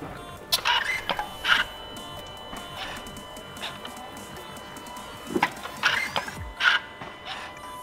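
An Audi Q7 throttle body whirs and clicks as the ignition is switched on and off, in two clusters of short mechanical bursts separated by a quieter stretch, close up with no talk.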